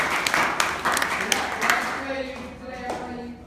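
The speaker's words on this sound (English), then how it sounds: "let's give Judge Deborah Thomas a round of applause." A short burst of clapping from a small crowd at a precinct delegates training class, loud at first and fading out over a few seconds.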